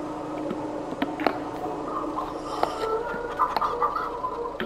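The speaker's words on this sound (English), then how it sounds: "Hey, cheeky chickens." Chickens clucking on a Farming Simulator 22 farm, steady busy clucks and short squawks at moderate distance over a low background hum, with no talking.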